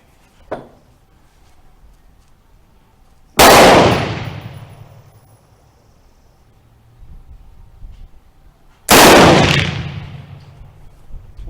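Two loud, sharp shots from a Remington Rolling Block carbine chambered in 7mm Mauser ring out several seconds apart, each with a booming decaying tail. A faint click comes before them.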